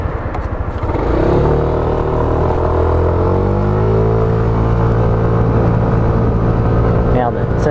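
A bright fluorescent-yellow Yamaha Tricity three-wheeled scooter starts up and rides off, its engine note steady and close with rising tones and a rough drone, continuing loud throughout.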